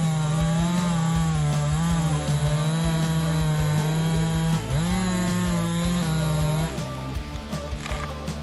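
A Stihl MS-881 chainsaw runs loud and steady, its engine droning with slight dips in pitch as it bites into a tree before easing off near the end.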